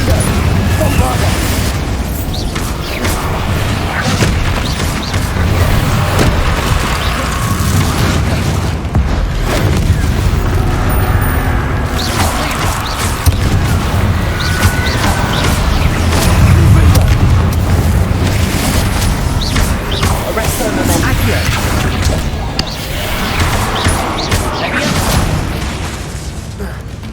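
Bombarda spell blasts in Hogwarts Legacy, a series of loud booming explosions with rumbling debris and mechanical clatter, layered with game sounds and shouted voices throughout.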